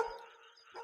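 A dog barks in a video game, one short, faint electronic-sounding bark and whine heard alone.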